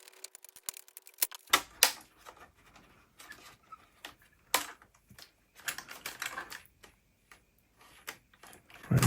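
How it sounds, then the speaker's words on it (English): Plastic RC car body, an MN82 LC79 scale crawler shell, being cut to trim a piece near the wheel, giving a string of sharp, close snips and clicks in an irregular rhythm with brief quiet gaps and no talk. "So I'm gonna cut this piece off right here."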